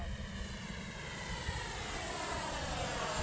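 Arrows RC F-15 Eagle model jet, flying after repairs, gives a steady, fairly quiet whooshing drone from its electric ducted fan that holds an even level throughout, with no voices.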